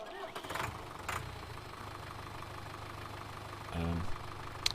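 A tractor engine in Farming Simulator 2013 cranks and catches near the end, then settles into a low rumble over steady engine drone, with brief talk at the start.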